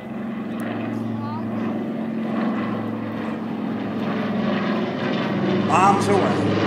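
Steady loud propeller drone of a vintage warplane with two big Pratt & Whitney R2800 engines taking off at an EAA air show, with an announcer talking over the continuous roar.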